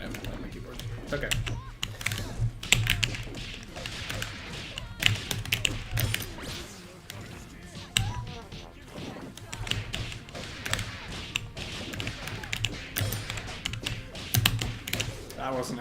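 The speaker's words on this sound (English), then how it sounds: "Yeah, I'm gonna have to play on my keyboard." Computer keyboard keys tapped rapidly and irregularly while playing the fighting game Skullgirls, a dense clatter of close clicks and thumps continuing under intermittent talking.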